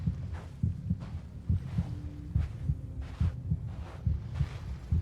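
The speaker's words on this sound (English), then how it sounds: "Oh, the heartbeat is getting louder." Heartbeat from the video game Genshin Impact, during a Varka story quest: steady, deep paired thumps repeat about once a second, loud and close, with a low hum beneath and no talking.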